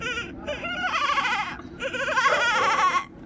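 A voice mimics a baby goat, giving quavering, high-pitched bleats in two bursts close to the listener.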